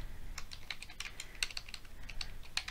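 Keys clatter on a computer keyboard as a welcome note is typed into a Power Apps component, a steady run of light clicks with a few sharper strokes, fairly quiet and close with no voices.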